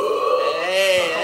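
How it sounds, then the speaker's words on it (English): A man lets out one long, loud, rumbling burp with a wavering pitch, close to the microphone, over a gaming PC setup. "That was a fatty burp."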